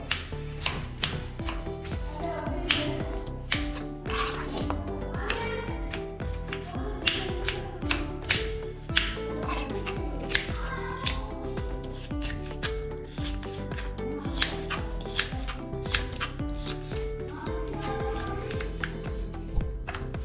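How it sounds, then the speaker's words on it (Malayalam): A tomato is chopped with a knife for a Malappuram-style chicken biriyani, giving quick, crisp taps on a cutting board in a steady, rapid rhythm over soft background music. "നമുക്ക് ഈ തക്കാളി ഒന്ന് അരിഞ്ഞെടുക്കാം"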